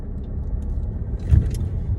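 Jaguar XF in Sport trim on the move, a steady low engine and road rumble with faint rattles near the end, heard alone without talk.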